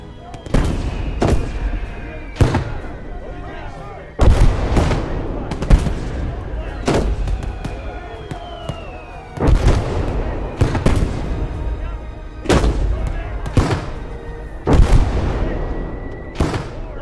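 Heavy artillery blasts and rattling gunfire pound across a battlefield in the World War II game Gates of Hell, with loud booming impacts every second or two and soldiers shouting among the explosions.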